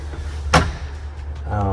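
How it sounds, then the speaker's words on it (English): A small garage access door beneath the bed of a ProMaster 159 van conversion gives a single sharp thud or latch click midway, then a brief rattle, with a voice starting near the end. "underneath the bed, next to the desk, we have a little garage access door"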